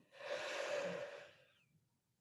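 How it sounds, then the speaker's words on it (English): A single deep inhaled breath during a guided breathing exercise, a close, airy rush that swells and fades over about a second and a half. "And another deep breath in."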